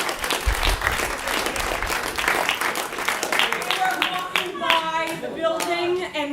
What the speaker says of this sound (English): Please clap once again for Sam and Bowler.